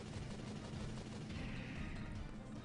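Rapid gunfire in the video game Bleach: The 3rd Phantom, a dense, fairly quiet burst of shots that runs continuously, with no talking over it.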